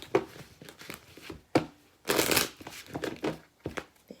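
Chakra oracle cards being shuffled by hand, a series of soft papery riffles and crinkling swishes, close and quiet, with a longer riffle midway and short flicks around it.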